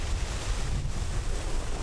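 Ocean waves surge and break against the rocky cliffs of Taejongdae in Busan, a steady, loud wash of surf mixed with wind rumble and no voices.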